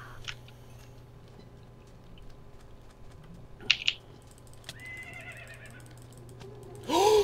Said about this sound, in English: Oh, zombie horse.